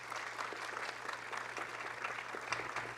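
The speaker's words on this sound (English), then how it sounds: "Can we give everyone a round of applause?" An audience at Toronto's Access, Equity and Human Rights Awards ceremony claps together in a steady, fairly distant round of applause, soft but continuous.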